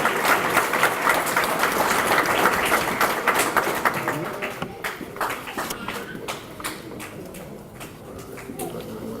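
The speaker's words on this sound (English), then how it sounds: "Give Sean a round of applause, please." Banquet crowd claps for a scholarship recipient, steady, full applause that gradually tapers into scattered claps, with murmuring voices underneath.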